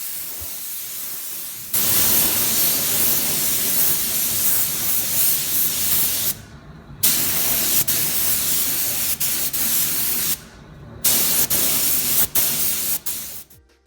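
Clear coat sprays onto a car headlight in three loud, close, continuous hissing bursts separated by brief pauses, with no voices.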